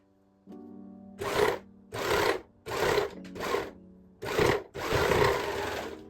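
An overlock sewing machine stitching soft, drapey fabric into scrunchies, running in five or six short bursts of whirring with brief pauses between, close and fairly quiet over a low steady hum.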